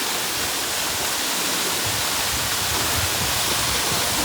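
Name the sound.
Lavasa waterfall flowing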